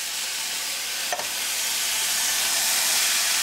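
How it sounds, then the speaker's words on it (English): Fire roasted diced tomatoes with garlic pour into a hot pot, giving a steady broad sizzling hiss with a brief clatter near the start, continuous and close. "I'm going to go ahead and add some fire roasted diced with garlic"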